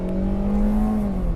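A 2017 Kia Rio hatchback's 1.6-litre engine accelerating, a steady rising drone heard from inside the cabin, loud and continuous with no talking.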